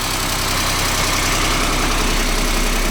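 A Magirus truck diesel idles in a garage, a loud, continuous rumble close by with steady vibration and no pauses.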